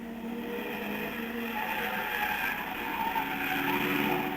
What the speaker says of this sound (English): Salvadori's Aston, Hawthorne's Ferrari. Barra's 1600 Porsche and Fitch's 250 Testarossa